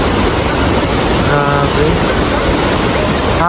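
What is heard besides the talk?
strong rushing river water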